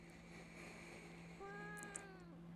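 A cat in the horror game Fears to Fathom: Woodbury Getaway gives a single drawn-out, plaintive meow, fairly close and clear over a steady low hum.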